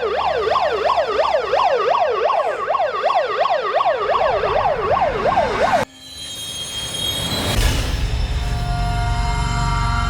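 An ambulance siren wails loudly in a rapid, repeating up-and-down sweep for about six seconds, then cuts off abruptly into a rumbling, noisy street scene.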